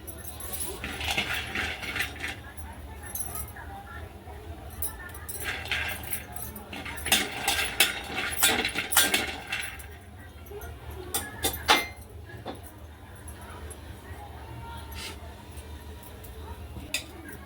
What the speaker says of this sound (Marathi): हे शेंगदाणे आपण चांगले खरपूस भाजून घेऊया